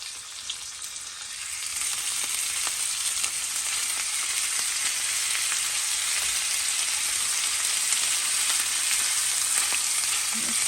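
Hot links wrapped in bacon sizzle on a stovetop grill, a bright, dense frying hiss that swells over the first two seconds and then holds steady and close, with no talking.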